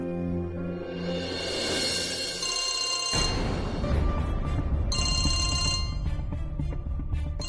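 A telephone rings with repeated electronic tones, followed by a noisy burst and more ringing, loud and close with no talking.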